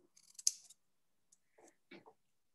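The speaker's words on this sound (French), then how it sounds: "2 coups de ciseaux." Scissors snip paper strips at a Christmas craft workshop. A quick cluster of crisp, close cuts is followed by a few softer isolated clicks and rustles, with no voices.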